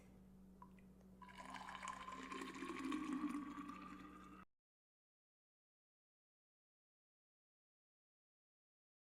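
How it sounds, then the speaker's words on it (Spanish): Homemade Baileys liqueur is poured into a lidded bottle or jar, a close, swelling liquid gurgle and trickle that builds for about four seconds and then stops abruptly into silence. "Entonces voy a verter aquí mi Baileys."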